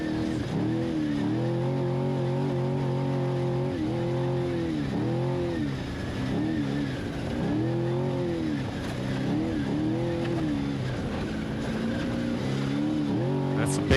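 An off-road race truck in the NORRA Baja run from Ensenada to San Felipe roars steadily over big holes, its engine rising and falling in repeated surges, loud and continuous for the whole stretch, with a voice talking faintly underneath.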